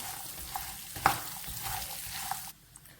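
A sweet-and-spicy cornflakes mixture is stirred with green gram in a pan, giving a soft, steady scraping rustle with one sharper clink near the middle before it cuts off.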